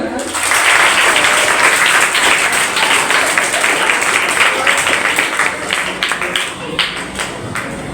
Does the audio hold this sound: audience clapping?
yes